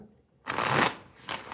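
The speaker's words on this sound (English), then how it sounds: "All right, Gerline, I'm shuffling cards for you" Tarot cards being shuffled, a dense papery riffle lasting about half a second, then a shorter second burst after a pause, close and fairly quiet with no talk.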